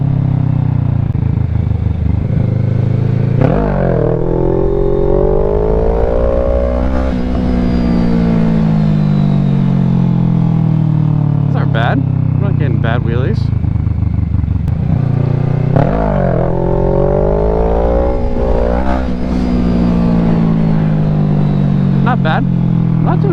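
A motorcycle engine revs loud and close while the rider does wheelies, rising and falling through repeated throttle blips and gear changes. Wind buffeting runs throughout, and a voice speaks at times under the engine.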